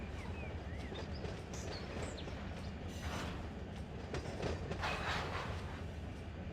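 A freight train moving in the Run 8 train simulator game rolls along with a steady low rumble and faint clickety-clack of wagons over the rails, continuous throughout with no talk.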